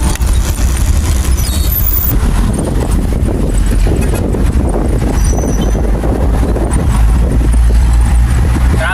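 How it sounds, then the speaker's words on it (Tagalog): Road traffic on a service road, with a dense, steady rumble of car and truck engines running close by throughout and no clear break in the noise. "Traffic at service road mga ka-idol"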